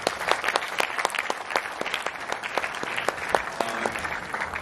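An audience at a music launch event claps steadily, a dense even patter of many hands in a hall, moderately loud, with no one speaking over it.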